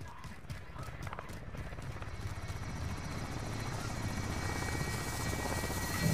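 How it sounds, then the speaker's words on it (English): A helicopter in Call of Duty Warzone Plunder mode chops steadily with rapid rotor thumps, growing slightly louder and nearer over the clip, with no speech over it. "Look at the chopper."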